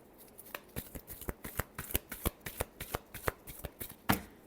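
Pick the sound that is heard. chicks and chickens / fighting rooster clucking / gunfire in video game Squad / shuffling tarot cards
shuffling tarot cards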